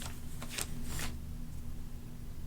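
Scissors cutting paper for a handmade tear-away Christmas notepad, a few short crisp snips close by in the first second, then quiet.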